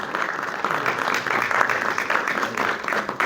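Audience applause at a classical music event at Thapar University, Patiala: steady, dense clapping from a hall crowd that holds at an even level for the whole stretch.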